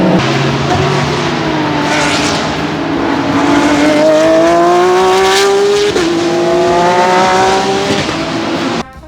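Loud racing engines scream past up close at Road Atlanta, their pitch rising and sliding as cars accelerate along the track, one after another with no pauses.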